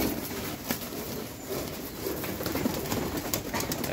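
Several breeds of pigeon coo softly in a loft, with low, repeated throaty calls, occasional sharp clicks and faint movement sounds. The calls are close and moderately quiet, and no one speaks.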